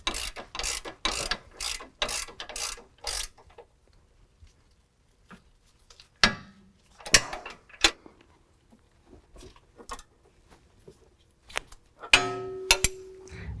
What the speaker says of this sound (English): tighten the top sway bar end link down to factory spec